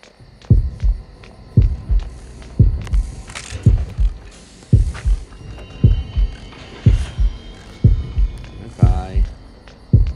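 Low, throbbing heartbeat from the horror game Horrorfield, heavy double beats landing about once a second in an even rhythm over a background hum, loud and up front.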